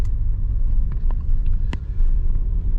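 Small car driving along a road near a tight roundabout, a steady low engine and road rumble heard from inside the cabin, with a few light clicks and knocks.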